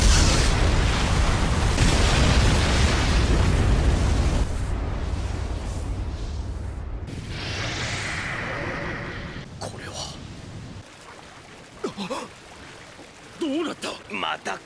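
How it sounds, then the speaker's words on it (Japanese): Ten-Tails' tailed beast bomb resonance explosion from the Naruto anime, a sustained roaring blast that rumbles loud for several seconds, thins out, then gives way to scattered lighter bursts and debris. "そんなもので十尾の美獣玉四つからなる共鳴爆破に耐えられはせん"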